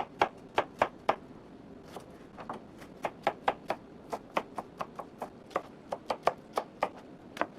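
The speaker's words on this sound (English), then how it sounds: "So the next item is 1 medium green pepper. So that's what I'm chopping up now." Rhythmic knife chops on a cutting board as an onion and a green pepper are chopped, quick bursts of sharp taps with short pauses between groups, close and clear.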